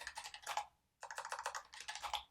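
Fast typing on a computer keyboard while entering a Docker Compose command, with three dense bursts of close clicking separated by a short pause and no voice.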